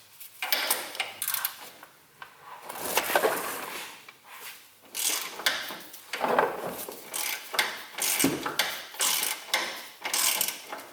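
Wrench ratcheting on an engine mount nut of a BMW E46 3 Series, repeated clicking bursts in short runs with brief pauses, close and moderately loud, no talk.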